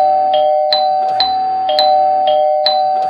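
A doorbell chimes again and again in quick succession, bright ding-dong tones repeating rhythmically, loud and close with no voices.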